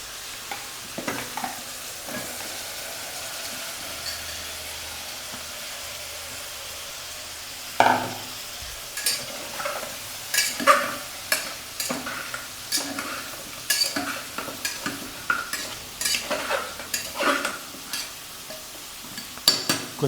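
Chicken leg pieces fry in a pan under a low continuous sizzle, with the later half filled by repeated clanking and scraping of a spatula stirring against the metal, close and distinct.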